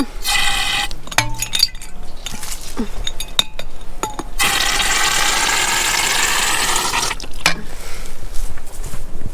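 Water gushes from an outdoor tap at an off-grid cottage, a steady hissing flow lasting a few seconds in the middle, surrounded by close metallic clinks and knocks.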